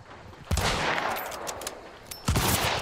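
Video game gunfire crackles in quick bursts, with two heavy shots standing out among rapid automatic fire and clattering echoes, loud and near.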